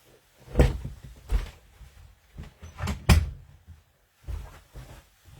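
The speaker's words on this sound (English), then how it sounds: "Just a second while I shut my bedroom door." A series of wooden knocks and thuds as a bedroom door is pushed and shut, with a few sharp bumps and rattles close by, no talking.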